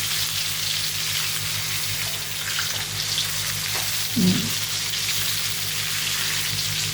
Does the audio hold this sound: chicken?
yes